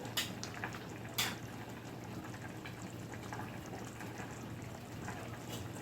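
Gravy simmers gently in a pan, giving a soft, steady bubbling hiss with a few brief clicks near the start. It stays quiet and continuous, with no talking.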